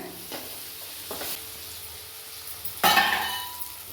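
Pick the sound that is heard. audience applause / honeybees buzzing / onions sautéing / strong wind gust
onions sautéing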